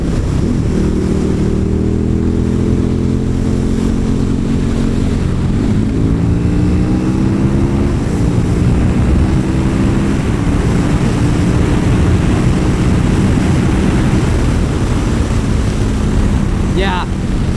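A KTM Super Duke 1290 motorcycle ridden with traction control on, its engine droning loudly with rising and shifting pitch under heavy wind rush, continuous throughout.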